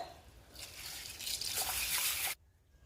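Water poured and swirled over roasted green gram to wash it for parippu curry, a quiet two-second splashing trickle that stops abruptly.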